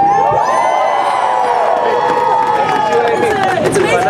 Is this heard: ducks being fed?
no